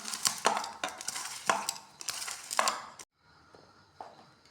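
Rice-flour dough for chowmein is mixed by hand, giving rhythmic, crunchy, gritty squishing strokes roughly every half second for three seconds, then quieter residual rustling with no talk.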